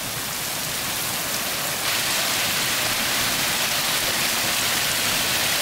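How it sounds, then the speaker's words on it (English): A hailstorm beats down in a dense, steady roar of hailstones and rain pelting surfaces, loud and continuous with no voices. "I can't believe it's still hailing."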